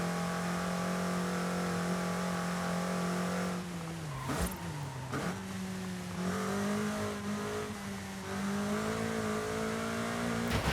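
A front-wheel-drive Toyota in Forza Horizon 5 revs and drones with a rasping exhaust, its engine pitch dipping during brief shifts around the middle and then climbing again, loud and steady throughout.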